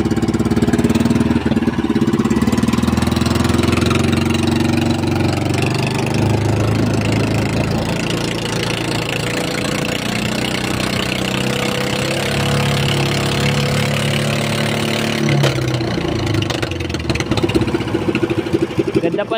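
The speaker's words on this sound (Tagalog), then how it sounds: "Ganda pa ng tunog ng makina." A small boat engine idles steadily with a low throbbing rumble and mechanical knocking, loud and close, running continuously with slight shifts in tone.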